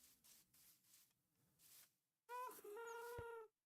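Chickens clucking in Minecraft, a short burst of loud, close clucks following a quieter stretch of soft background sound.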